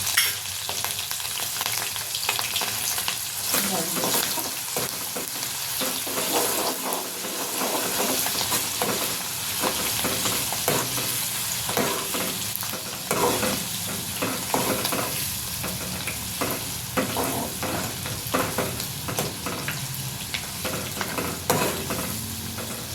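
Garlic frying in a pan of oil for Kathiyawadi brinjal oro, a steady close sizzle with frequent scraping and stirring sounds throughout.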